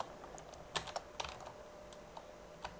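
Someone types code on a computer keyboard, the key clicks coming in short irregular bursts, quiet and close, with no talk.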